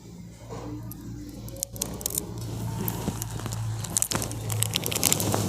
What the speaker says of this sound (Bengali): এরপর এই যে একটা কোণটা ধরে আমি একটুখানি কেটে দেবো।